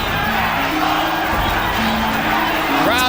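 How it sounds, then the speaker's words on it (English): Boxing arena crowd at the Julio César Chávez vs Meldrick Taylor fight, a dense roar with sustained chanting tones rising and falling throughout, loud and continuous, with a shrill whistle near the end. "Crowd chanting Mexico, Mexico, trying to lift."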